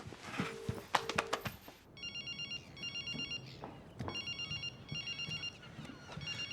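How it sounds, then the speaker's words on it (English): A telephone ringback tone repeats in regular bursts over a phone line after a few dial tones, steady and moderately loud, with faint background noise and no talking over it. "It's ringing."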